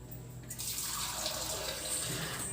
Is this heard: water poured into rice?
yes